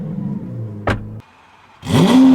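A Lamborghini Aventador V12 on the road, a sharp short engine bark, then a quiet pause, then a loud rising rev that swells and holds near the end.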